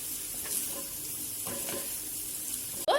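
Hakka noodles being stir-fried with masala in a pan, giving a steady soft sizzle with scraping stir strokes throughout and a louder clatter right at the end.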